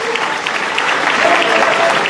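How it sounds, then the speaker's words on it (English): Audience applause at a university gathering in Cape Coast: steady, dense clapping from a crowd, close and even for a couple of seconds with no talking over it. "A big round of applause for him."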